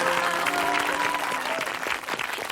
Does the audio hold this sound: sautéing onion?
no